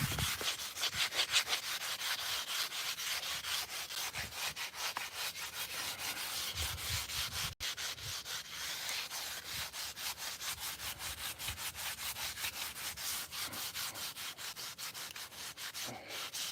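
Iron scrubbed with a piece of volcanic rock used as sandpaper gives a steady, rapid rasping rub that repeats in quick even strokes from start to finish, close and alone.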